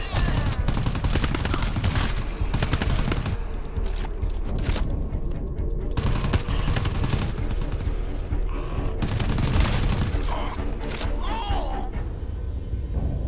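Dense, continuous gunfire in the co-op shooter video game GTFO, with rapid overlapping bursts from several weapons at close range, almost without pause, under occasional talk.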